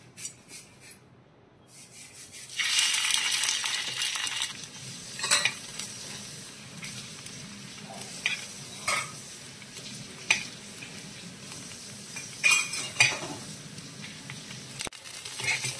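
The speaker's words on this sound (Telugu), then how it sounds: "దీంట్లో గీ యాడ్ చేసుకుందాం. ఇడ్లీ వేసుకుందామండి." Idli pieces frying in ghee in a pan, a steady sizzle that swells loudly as they go in, then softer frying broken by repeated scraping and stirring strokes, with no talk.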